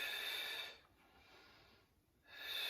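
Audible breathing during a Pilates exercise: a long, airy breath that fades into a quiet pause, then rises again near the end, close and fairly faint.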